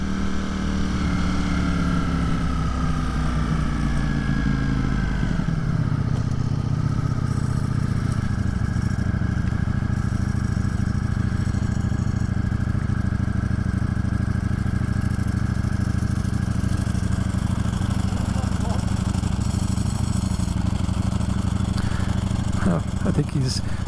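A 2022 Ducati Streetfighter V4 motorcycle engine runs steadily and loudly up close, its dense droning note shifting pitch early on, with people talking over it.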